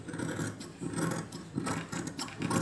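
Scissors cut through the neckline of an old silk saree being tailored into a chudithar top, making rhythmic crunching snips and fabric rustle close by.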